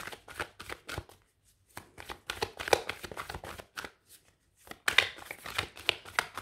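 Tarot cards are shuffled in quick, crisp bursts of riffling and slapping, close and fairly quiet, with brief pauses between handfuls as cards are drawn.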